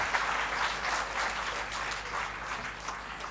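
Audience at an inclusion summit clapping, a steady dense wash of many hands at moderate level throughout with no talk over it.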